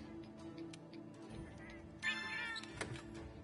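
A cat meows in the video game Monster Hunter World, a couple of short mewing calls over soft ticking and quiet game sounds.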